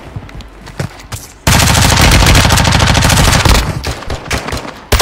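Video game gunfire: scattered single shots, then a long, loud, rapid automatic burst of several seconds, followed by more sporadic shots, heard close without speech.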